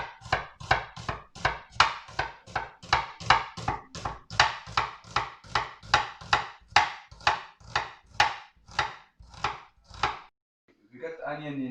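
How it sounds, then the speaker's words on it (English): Knife slicing onions very thinly on a board, a fast, even run of about twenty crisp close chops that stops with a brief rustle at the end. "slicing the onions very thinly"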